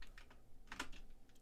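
Fingers type code on a computer keyboard, a rapid run of soft, close keystrokes over a faint background hum, with no voices.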